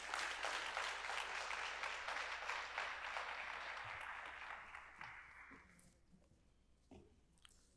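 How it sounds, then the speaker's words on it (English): Crowd at a conference plenary session with local legislators and officials breaks into steady applause that holds for several seconds, then gradually dies away to a few scattered claps. "Let's give them a round of applause"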